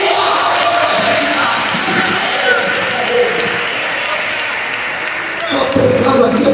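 A church congregation claps and cheers together in a large room, a dense sustained roar of applause with shouts and voices mixed in.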